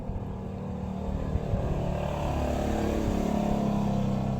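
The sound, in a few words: loud motorcycle engine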